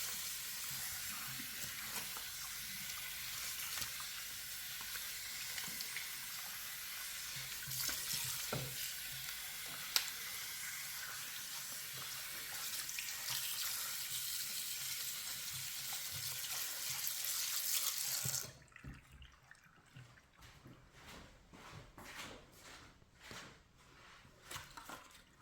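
A leek is rinsed under a running kitchen tap, a continuous close hiss of splashing water that cuts off abruptly, followed by quieter clatter and handling sounds.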